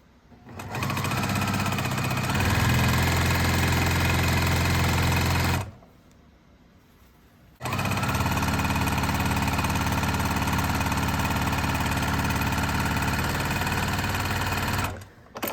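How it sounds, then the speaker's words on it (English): A sewing machine stitching long quilt strips with a steady seam, running in a loud, continuous mechanical whir for several seconds, pausing briefly, then resuming for another long stretch before stopping. "we're just going to stitch with a consistent seam allowance all the way down the length of this strip"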